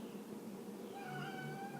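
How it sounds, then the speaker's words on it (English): A pet cat meowing faintly in a room, a drawn-out plaintive call or two heard at a distance over steady background hiss. "there's my cat if you can hear it"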